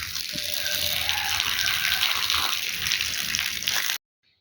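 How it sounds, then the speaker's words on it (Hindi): Water gushes and splashes steadily across a courtyard and veranda floor during washing, a continuous close rushing wash that cuts off abruptly near the end. "तो फिर मैंने सोचा कि चलो सेन और बरामदे धो ही लेती हूँ।"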